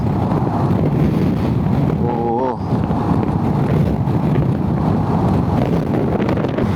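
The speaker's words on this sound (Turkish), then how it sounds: "Acayip bir rüzgar var" Strong wind roars steadily across the microphone while riding a Honda ADV 350 motorcycle, with a brief voice calling out midway.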